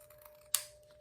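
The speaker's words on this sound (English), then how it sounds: "I think this is going to be easy enough to cut using my scissors here" Scissors snip once through the edge of a glued stripy card base, a single sharp cut heard up close in a quiet room.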